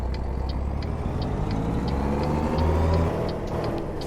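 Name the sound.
truck engine over-revving in American Truck Simulator video game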